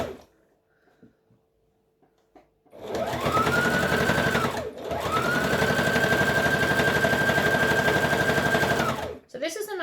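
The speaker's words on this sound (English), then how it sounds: "And then we can go to the overlocker and overlock everything." An overlocker serger stitches hoodie fabric in two loud, steady runs with a brief pause between them, a fast even mechanical whir. Faint sounds come before it starts.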